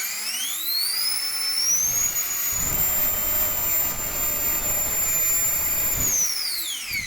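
A JP 90mm electric ducted fan on a test stand, tested alone to check ducting efficiency for a 3D-printed Harrier STOL jet, spins up to a loud piercing whine, holds steady, then winds down.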